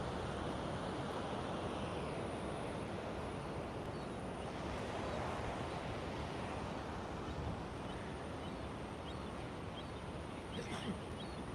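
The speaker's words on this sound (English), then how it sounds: "Tune into the sound of that ocean." Steady broadband wash of ocean surf, continuous and fairly even, with a soft breezy hiss and no voices.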